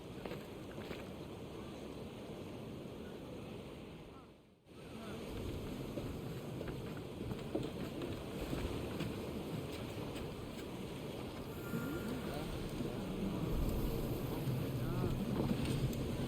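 A sailing ship moves across open water in Assassin's Creed Odyssey, with a steady wash of wind and sea, a brief dip to near silence around the middle, then the same rushing surf and wind building slightly toward the end.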